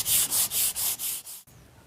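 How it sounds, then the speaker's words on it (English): Sandpaper of 220 grit rubs back and forth across wood in six quick, even strokes, a close, loud, hissing scratch that fades slightly with each pass before stopping. "you should always sand to at least 220 grit before any finish goes on"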